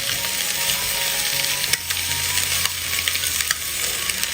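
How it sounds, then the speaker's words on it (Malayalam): Snack filling being stirred in a hot pan, a steady scraping and sizzling that runs the whole time, close and fairly loud, with a few sharper clicks of the spoon against the pan. "അപ്പോൾ എല്ലാം ഒന്ന് മിക്സ് ചെയ്തെടുത്തു."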